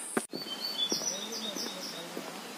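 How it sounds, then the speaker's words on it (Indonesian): Birds chirping back and forth at a moderate distance on the Mount Gede trail via Cibodas near a stone bridge, high thin calls repeating over a quiet outdoor background with a few soft low knocks. "Indahnya suara burung saling bersahutan ya teman-teman"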